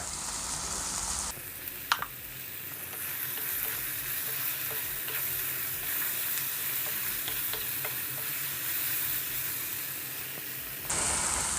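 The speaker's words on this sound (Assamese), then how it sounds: "এতিয়া 2 মিনিটমান সময় এই পিঁয়াজ আৰু বিলাহীখিনি কোমল হোৱালৈকে আমি ভাজি ল'ম" Onion and tomato sizzle and fry steadily in a hot pan, with occasional scrapes and clicks of stirring, no voices.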